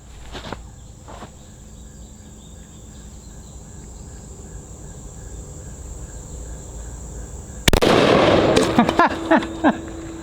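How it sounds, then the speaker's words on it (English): Big Blast target caps are shot and pop, giving a sudden sharp crack and a crackling burst late in the clip. Quiet outdoor ambience with insect-like chirps comes before it. "He shot 2 lined up and popped both of them."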